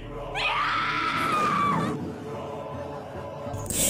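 A woman screams loudly in a scene from the 2017 Berserk anime, one sustained shrill cry lasting over a second over a dense, noisy backdrop, followed by quieter rumbling.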